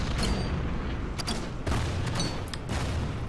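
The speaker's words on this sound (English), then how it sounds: "Some mortar fire in Stalingrad." Mortar fire in a Stalingrad battle within the Order of Battle strategy game, a dense run of overlapping thuds and crackling blasts filling the whole stretch without any voices.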